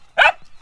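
A dog on a farm in Morocco lets out a single short, sharp bark close by, standing alone against a quiet background.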